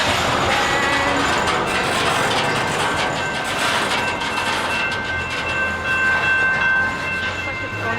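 A Canadian Pacific or West Coast Express train rolls past at Pitt Meadows, a loud, continuous rumble with metallic squeals and rhythmic wheel clatter lasting throughout.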